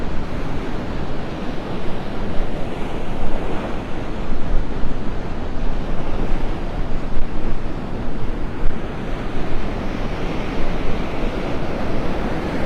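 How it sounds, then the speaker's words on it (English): Ocean waves breaking on an outer sandbar at Delnor-Wiggins beach in North Naples, in a continuous loud roar, with wind buffeting the microphone throughout. "Pretty good waves breaking"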